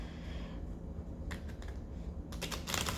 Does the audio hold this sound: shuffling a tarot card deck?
yes